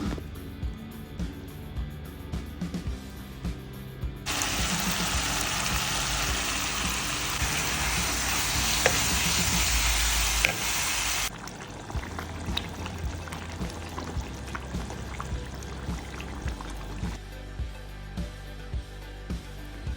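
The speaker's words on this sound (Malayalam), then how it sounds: "എന്നിട്ട് നല്ലോണം നന്നായി എണ്ണ തെളിയണ വരെയും നന്നായി ഇതാക്കിയിട്ട് അതിലോട്ട് നമുക്ക് വേവിച്ച് വിട്ടേക്കണ ഈ ബീഫ് എടുത്ത് ആഡ് ചെയ്യുക കേട്ടോ." Cooked beef added to ground masala frying in oil in a pan for Kerala-style beef varattu, giving a loud, steady sizzle that swells mid-clip over a low hum of background noise.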